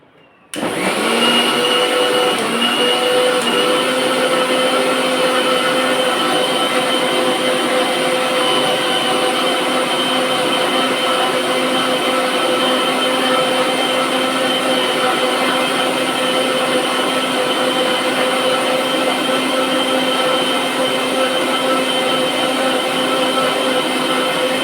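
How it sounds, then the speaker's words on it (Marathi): A kitchen blender whirs mango juice at full speed, starting abruptly and then holding a loud, steady, high whine with a roaring motor hum for the whole stretch, no voices. "आंब्याचा रस. आणखीन एकदा फिरवून घ्यावं लागेल आपल्याला."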